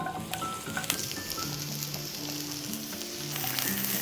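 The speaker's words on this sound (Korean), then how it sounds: "먼저 마늘종과 양파랑 당근을 먼저 볶아내겠습니다." Garlic stems, onion and carrot sizzle and crackle in a preheated pan over high heat, with steady frying hiss, occasional stirring scrapes and a low hum underneath.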